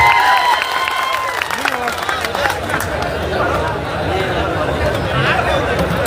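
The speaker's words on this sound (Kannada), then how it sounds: "ಜೋರಾದ ಚಪ್ಪಾಳೆ ಹೊಡಿ" Audience at a public gathering clapping together, a dense continuous patter of hands spread across the crowd, with voices chattering underneath throughout.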